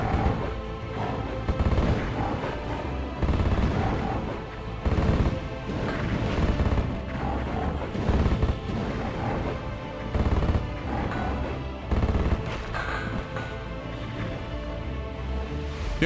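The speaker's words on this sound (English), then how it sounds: "It's a musket shooter. We're basically firing musket balls." Musket fire from a musket shooter weapon in the game Heretic, steady repeated booming shots blending with dense, loud in-game noise throughout, no speech.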